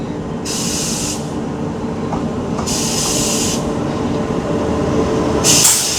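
Train crossing heard from aboard the Kanchankanya Express, a steady close rumble of wheels on rails with bursts of hissing air rushing past as the other train goes by.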